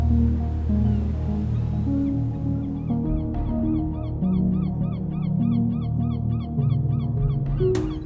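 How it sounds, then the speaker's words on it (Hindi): Fairy terns call on a Seychelles island, quick series of short repeated chirps over a continuous bed of music and faint surf, moderately loud. "फेरी टर्न्स यहाँ की स्थायी निवासी है।"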